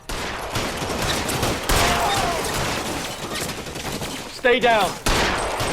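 Bursts of gunfire in the crime video game LA Noire, loud volleys broken by short gaps and a sharp crash near the end, with a voice speaking briefly among the shots.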